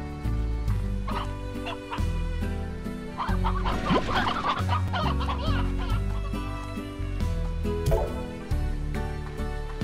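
Chickens clucking in the video game Slime Rancher, repeated short clucks layered over steady looping game music throughout.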